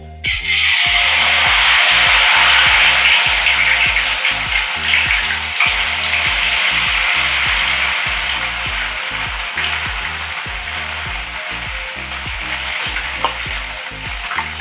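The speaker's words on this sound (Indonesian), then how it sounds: "sekarang minyaknya udah panas. Sekarang kita coba masak" An egg and rice vermicelli roll fries in hot oil, giving a loud, dense sizzle with crackling bursts and repeated scraping or stirring knocks, gradually easing slightly over time.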